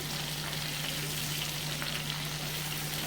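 Bacon fries in butter in a pan, a loud, close, unbroken hiss and crackle of fat with no pauses and no talk.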